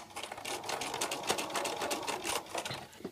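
A sewing machine runs a straight stitch along a fabric edge with a rolled hem foot, giving a steady, close mechanical whir with fast rhythmic needle chatter throughout, no voices.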